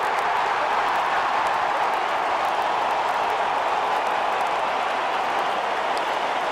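A large stadium crowd at Adelaide Oval roars continuously and evenly during a Port Adelaide versus Adelaide AFL match, a dense wash of cheering and applause heard from a distance.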